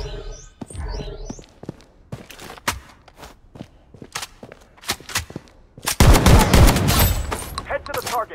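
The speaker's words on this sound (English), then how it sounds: "the shotgun is actually not bad." A shotgun fires in the video game BloodStrike, with sharp, punchy blasts scattered among footsteps and other gunfire, then a dense burst of rapid shots near the end, loud and close.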